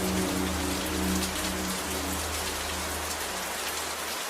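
Steady, dense rainfall pours down close by without a break, with a low continuous rumble underneath that may be distant thunder.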